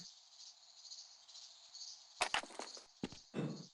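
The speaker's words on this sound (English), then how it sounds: "Lots of cricket sounds," Crickets in a video game keep up a steady, high, continuous chirring, with a few brief clicks and rustles breaking in near the end.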